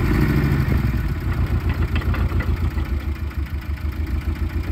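A manual Porsche 718 Cayman GTS with a faulty clutch, heard close up as a loud, continuous low engine drone with a rattling, clattering undertone throughout.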